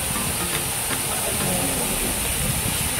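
Shrimp sautéing in butter in a pan gives a steady, loud, broadband sizzle and hiss that holds evenly throughout, with no talk over it.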